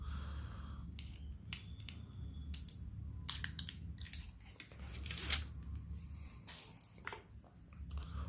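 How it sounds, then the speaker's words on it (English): Plastic wrapping is peeled and torn off a Xiaomi Mi TV Stick, giving quiet crinkling and sharp crackling snaps in irregular bursts over a low background hum, fairly faint and close. "so we'll get rid of the plastic."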